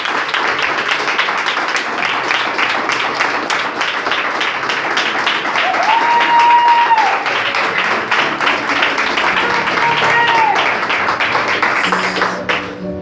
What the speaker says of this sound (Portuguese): Vamos aplaudir bem forte ao Senhor Jesus.